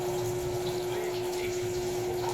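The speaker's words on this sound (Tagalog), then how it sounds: "Ako magbukas ng tubig." A water tap runs steadily, a close, even hiss of flowing water with a constant pump-like hum underneath.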